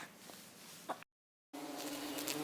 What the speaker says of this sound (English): a big pink clover that was buzzing with bees